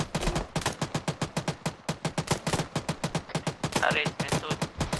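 Rapid, sustained gunfire in a military video game: dense, loud bursts of shots in quick succession with a couple of heavier thumps, likely from a grenade launcher, and a brief radio-like crackle partway through.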